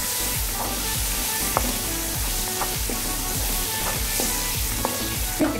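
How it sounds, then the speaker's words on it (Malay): Petai beans fry in a hot pan with a steady close sizzle, broken by repeated scraping stirs at a regular pace. "Kita goreng kita punya petai ni goreng petai dia goreng petai ni."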